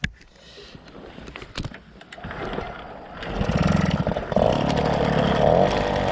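Motobecane 88 motorcycle kicked into life, a few sputtering attempts catching into a steady, rising two-stroke engine run that grows louder and settles into a continuous buzzing idle close by.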